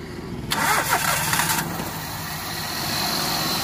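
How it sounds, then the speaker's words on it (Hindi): A Maruti Alto car with a starting fault cranks on its starter for about a second, a loud burst of rapid grinding, then settles into a steady low engine idle. "मारो सेल"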